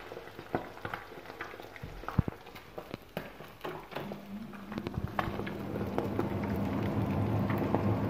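Bacon frying in a pan, with scattered pops and clicks building into a steadier sizzle that grows louder toward the end, heard close up with no speech.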